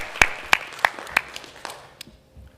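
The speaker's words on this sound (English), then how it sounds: "let's all give a round of applause to" A few sharp claps ring out near the start, spaced about a third of a second apart, then fade quickly into quiet room tone, like brief scattered applause from a small audience at an academic faculty conference.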